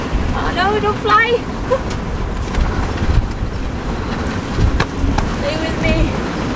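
Strong storm gusts roar around a boat at anchor in 36-knot wind, a constant heavy rush with buffeting bursts and rigging noise, while people call out briefly.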